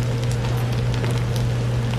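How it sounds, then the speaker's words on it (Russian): Bibimbap sizzles in hot pots set right on the fire, a dense, steady crackling hiss with a low hum beneath, loud and close throughout. "И смотрите, все шипит, потому что прям с огня."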